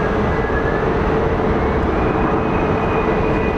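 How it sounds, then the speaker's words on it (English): SkyTrain automated people mover at Phoenix Sky Harbor International Airport passing below the listener: a steady, loud broadband rumble and whine that holds throughout with no break. "The SkyTrain goes right below me, so kind of hard to see it."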